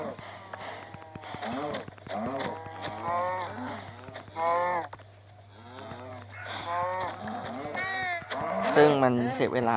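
Cows moo repeatedly in Minecraft, their drawn-out calls mixing with a person talking over them against a low steady hum.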